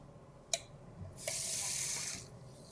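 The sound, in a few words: water poured into a pan of beef fajita sauce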